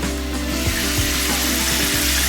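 Chicken pieces deep fry in hot oil, giving a steady, dense sizzle and crackle that runs close and continuous throughout.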